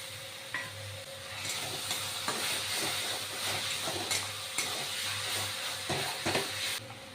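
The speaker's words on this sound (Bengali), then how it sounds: "যেহেতু এটা আলু একটু সিদ্ধ করা আছে, তাই জন্য আমি একটু হালকা গরম জল করে রেখেছি।" Partly boiled potatoes sizzle and hiss in a hot pan for a duck egg curry, a steady close frying sound with occasional stirring clicks and scrapes and no talking.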